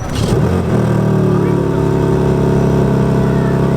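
A 2021 BMW G80 M3 Competition starting up at a car meet, a loud crank and bark settling into a deep, steady idle heard close by.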